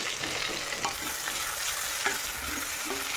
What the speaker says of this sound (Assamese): মাংসটো কি ধুনীয়া ফ্ৰাই হৈছে